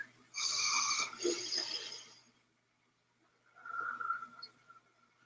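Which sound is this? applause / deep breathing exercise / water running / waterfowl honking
deep breathing exercise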